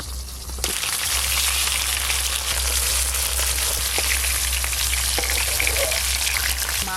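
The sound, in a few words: frying catla fish pieces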